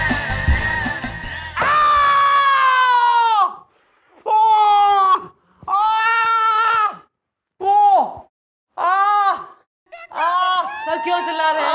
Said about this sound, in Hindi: सर क्यों चिल्ला रहे हैं?